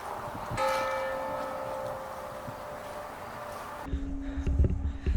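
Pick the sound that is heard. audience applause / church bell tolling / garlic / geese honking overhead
church bell tolling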